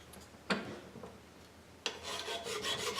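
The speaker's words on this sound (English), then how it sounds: "file the top of this off" A hand file rasps across the top of an aluminum pipe being shaped into a chimney flange for an old model boat, with two sharp initial strokes followed by a run of quicker, closer scraping strokes.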